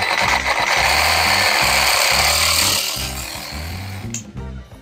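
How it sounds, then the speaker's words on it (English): Cutting a length of PVC pipe while installing a sprinkler controller, a loud, steady rasping saw-like grind with rhythmic low pulses, close up and alone, easing off near the end. "we need to cut off a little bit of the PVC"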